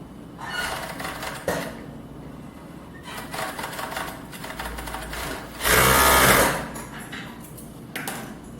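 A sewing machine stitches fabric for panties up close, several runs of rapid mechanical whirring separated by pauses, one burst louder and harsher than the rest.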